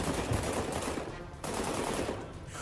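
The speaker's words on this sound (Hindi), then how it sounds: "अचानक अपनी गन निकालता है और ताबड़तोड़ गोलियां चलाना शुरू कर देता है।" A semi-automatic handgun fires rapid shots outside a metro station, heard as dense crackling bursts under a continuous roar of background noise, with a brief break midway before the firing resumes.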